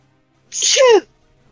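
A single short, bright sneeze from a Legend of Zelda game, played during a boss fight. It is one sharp burst of about half a second, heard alone with no talk over it.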